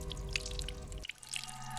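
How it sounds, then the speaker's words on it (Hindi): Water runs steadily in a bathroom, with a faint trickle and scattered drips under a low hum. The flow drops and thins partway through. "बाथरूम में पानी बहने की आवाज आ रही है।"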